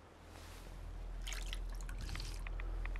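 Water being drunk from a source in Fallout 4, with soft trickling and dripping that swells slightly, faint and close.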